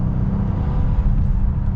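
A Honda Ridgeline HPD pickup's 3.5-liter V6 pulling under partial throttle, a loud, steady, close engine rumble with no talking.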